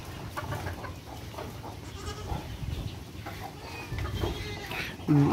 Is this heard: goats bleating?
yes